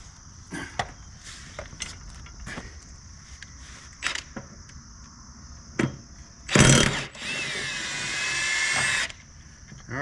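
Impact wrench removing lawn mower blades, heard as a short sharp burst and then a longer sustained rattling run, close by, with scattered tool clicks and knocks before it and no talk.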